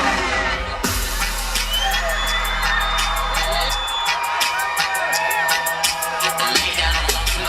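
A concert crowd at the 2016 Coca Cola/The Voice Happy Energy Tour show in Varna, Bulgaria shouts, whoops and cheers loudly, with a heavy bass beat under the first few seconds before it drops out.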